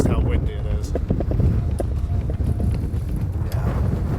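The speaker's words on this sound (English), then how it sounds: "Hopefully you can tell just how windy it is." Strong gusting wind buffets the microphone at a British summer bike race, a steady loud rumble with brief rises, set against a start-finish straight in gale conditions; a voice may be faintly present underneath.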